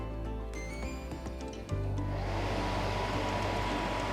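Wood's Cortina Silent 12K Duo portable air conditioner switching on, a low electrical hum that gives way after a click to a steady broadband fan whoosh with a low drone, close and even.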